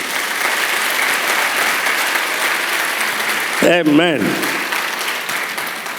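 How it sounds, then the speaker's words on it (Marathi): A church congregation at a New Year sermon applauds, a dense continuous clapping that fills the hall, briefly overlapped by a spoken word near the end. "टाळ्या वाजवाल का तुम्ही?"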